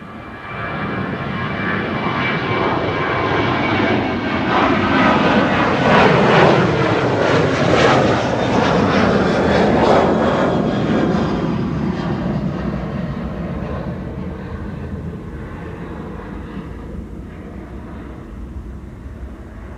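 KLM airliner on its takeoff roll and climb-out from Schiphol's Kaagbaan runway 24, bound for Barcelona: a loud, steady jet engine roar that builds, peaks in the middle and slowly fades as the aircraft departs.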